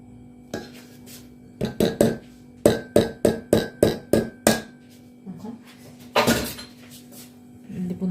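Eggs and flour are mixed in a bowl for a Lambeth-style cake, with a string of sharp, evenly spaced utensil clanks against the bowl, then a brief scraping burst, near and clear.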